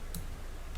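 Two soft, quick computer mouse clicks while working in CAD/CAM software for a CNC V-carve sign, close and faint over a low steady room hum.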